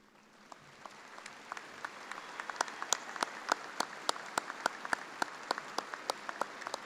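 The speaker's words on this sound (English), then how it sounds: "I ask you, our graduates, to please stand and applaud their contributions to your success." Graduates at a spring business administration commencement applaud, starting as scattered clapping and swelling into a steady, dense round of applause that fills the hall.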